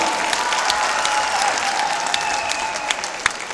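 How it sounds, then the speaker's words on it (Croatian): A crowd applauds steadily, dense continuous clapping from many hands, loud and sustained from start to finish. "Aplauz traje, moramo vas malo uzbuditi."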